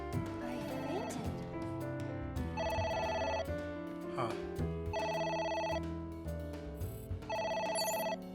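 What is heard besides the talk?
phone ringing in video game AI The Somnium Files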